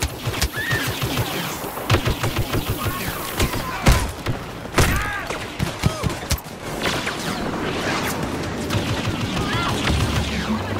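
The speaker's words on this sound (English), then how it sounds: "Rebel bombers are making their attack run." Rebel bombers attack in a Star Wars skirmish video game, with dense, continuous gunfire bursts and thudding explosions stacked into a loud, busy battle mix, voices and chatter running beneath.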